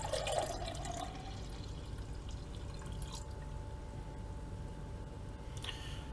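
Homemade cold brew coffee trickles and drips as it is poured from one vessel into a clean container. A thin, quiet liquid stream is heard close by with a few brief clinks and no voices.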